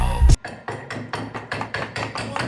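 A hammer chips slag off a flux-core weld on a T-post puller build, a quick run of sharp metallic taps following one loud opening hit, close and steady.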